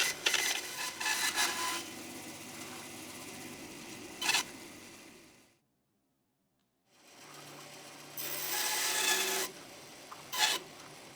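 Sawing through the ends of a bundle of glued wood veneer sticks, a steady buzzing cut for several seconds, a pause of silence, then another run of cutting with brief sharper bursts, close and fairly quiet.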